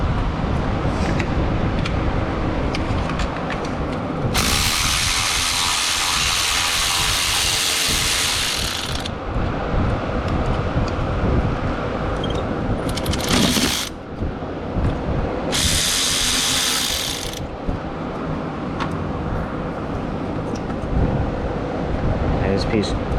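A ratchet works the two 10mm bolts on the thermostat housing of a 2006 Honda Civic, two bursts of rapid clicking up close over steady mechanical background, with a short burst between them.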